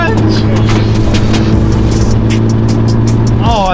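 A Nissan GT-R R35's engine runs loud and close with a steady, deep drone, rising briefly near the end, while a voice exclaims over it.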